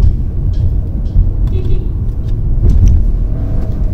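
Inside a Skoda Kushaq 1.0 petrol automatic SUV driving on the road, shifting with paddle shifters: a loud, steady low engine and road rumble with faint clicks, and a voice talking at times over it.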